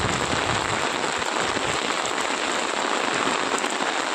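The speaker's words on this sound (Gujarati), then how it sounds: "વરસાદ જમવાવામાં વધારે આવી રહ્યો છે" Heavy rain pours down steadily in Banaskantha, a dense, even hiss of drops hitting surfaces up close, with no voices.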